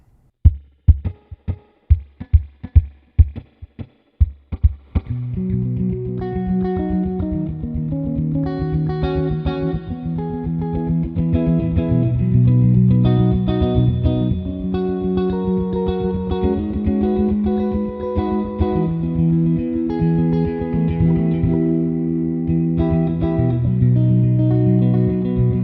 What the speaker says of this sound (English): let's go ahead and hear what it sounds like, and we'll start with the pure echo delay effect